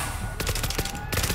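Rapid turret gunfire in the video game World War Z, loud bursts of close machine-gun shots in quick succession with a brief pause, set against a dense noisy background.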